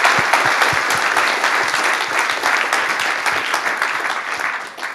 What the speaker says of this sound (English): one more round of applause for Dave